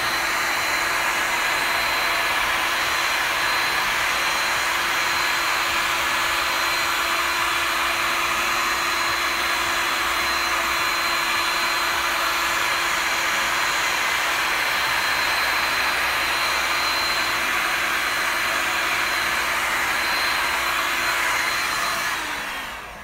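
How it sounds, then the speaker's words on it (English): Heat gun blowing hot air across a resin bowl, a loud steady broadband whoosh with a constant whine that holds for the whole stretch, alone with no talk, tapering slightly at the very end. "put the heat gun on it, which will help us get some of the lacing"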